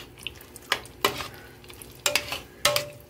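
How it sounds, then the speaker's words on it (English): Cajun-spiced chicken noodles with cream get stirred in a pan, four distinct scraping strokes over a low sizzle, close by and without speech. "Stir that back in."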